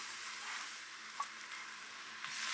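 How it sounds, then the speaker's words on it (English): Arborio rice toasting in hot fat in a round-bottomed pan, a steady bright sizzle with a couple of small pops as it is stirred, no talking. "And we're going to stir the fat around the rice in a round bottom pan."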